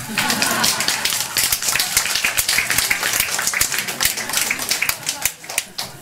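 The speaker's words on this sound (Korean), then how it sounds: "박수 안 치십니까?" Audience clapping fills the room at a gender-equality policy roundtable, a dense, steady patter of many hands running the whole stretch, with voices mixed in beneath it.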